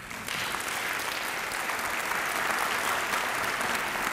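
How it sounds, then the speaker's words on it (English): An audience at a 2016 small-business event breaks into applause, a dense, even wash of clapping that starts abruptly and holds steady throughout. "Let's give them a big round of applause."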